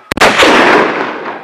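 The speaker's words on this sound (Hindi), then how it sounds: "ये जी फायरिंग कर रहे हैं" A gun fires outdoors at Fort Munro, Pakistan, with a few quick sharp cracks followed by one loud blast that rolls into a long, fading echo.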